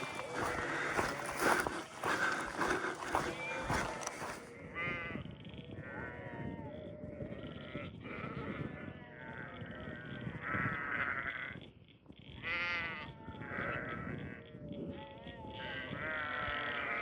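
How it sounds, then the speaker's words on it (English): Several sheep bleat repeatedly and close by in a farm paddock near the headwaters of Bundaleer Creek on the Heysen Trail, with a burst of rustling, wind-like noise at the start and no talk. "I'm not sure the sheep are so happy we've been diverted through their paddock."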